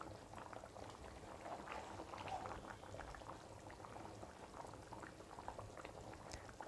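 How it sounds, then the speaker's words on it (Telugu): A pot of fish curry bubbles and simmers steadily on high flame, a low continuous boiling burble with small popping bursts, close by and moderately quiet. "చూడండి ఎంత బాగా ఉడుకుతుందో"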